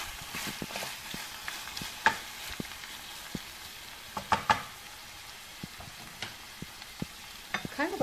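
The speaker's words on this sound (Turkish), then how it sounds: "Kavrulan kıymamıza bir yemek kaşığı salçamızı koyduk. Havuç ve kerevizimizi koyduk. Bir taşımda birlikte kavuruyoruz." Minced meat sautéing with a spoonful of tomato paste, carrot and celery: a soft low sizzle with scattered scrapes and clicks of a spoon stirring the pan, quiet and close, no talking.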